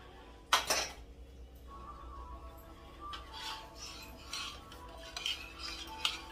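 A metal spoon adds chutney to a potato and tomato curry in a pan: one sharp clank against the pot, then quieter scraping and stirring clinks.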